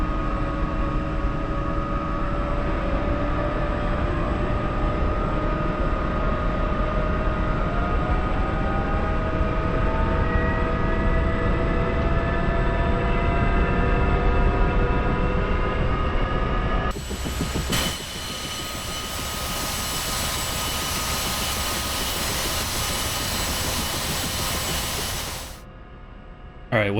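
Engines of a CH-47F Chinook helicopter in the DCS flight simulator running steadily, a loud continuous turbine whine with rising tones that shifts to a broader roar partway through, with no talk over it.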